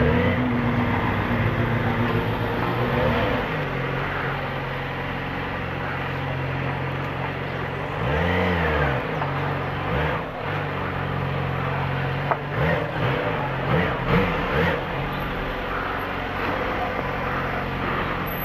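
A car turns and manoeuvres slowly through a parking area, its engine droning steadily up close with rising and falling revs and a few light knocks, no talk over it.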